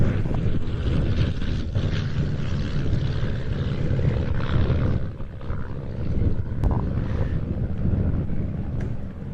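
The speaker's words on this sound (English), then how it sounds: "the yellow Chipmunk here is a very rare ex-Canadian Chipmunk" A yellow ex-Canadian de Havilland Chipmunk Mark II, a DHC-1B-S5, at an airfield flying day, its propeller engine droning steadily and fairly loudly with wind buffeting across the whole stretch.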